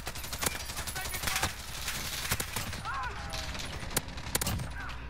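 Gunfire in a Call of Duty multiplayer match, sharp, loud single shots scattered through the passage over a steady background of game noise, with a voice talking over it.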